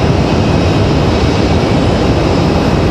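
Boeing 777 airliners of Air France and American taxi at Raleigh-Durham airport, producing a loud, steady broadband engine roar with no break or variation.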